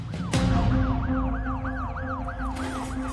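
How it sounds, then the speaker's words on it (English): An ambulance siren wails in a steady, rapidly repeating rising-and-falling pattern, loud and close, over continuous road rumble as the vehicle races to an emergency scene. "there was already an ambulance racing to the scene"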